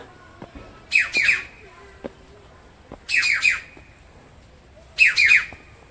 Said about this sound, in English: What's that bird I can hear?